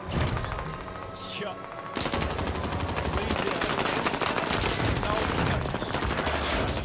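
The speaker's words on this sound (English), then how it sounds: "every fucking person is shooting at me right now" Sustained automatic gunfire from many shooters in the Rebirth shooter video game, dense and continuous after a brief quieter opening, loud and close with rapid bursts overlapping throughout.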